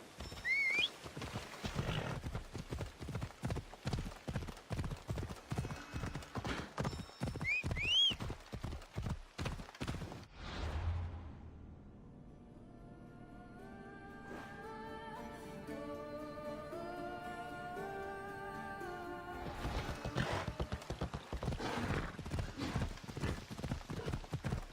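Horse in the video game Assassin's Creed Odyssey galloping with rapid rhythmic hoofbeats and a whinny, then a pause filled with musical tones before the galloping hooves return, close and clear.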